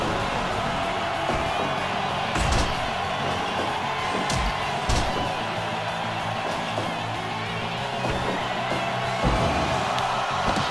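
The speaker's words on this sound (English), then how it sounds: "The crowd is going bananas." Steady roar of a video game wrestling crowd in Fire Pro Wrestling World on PS4, cheering continuously with a few sharper whoops and bursts rising above the wash of noise.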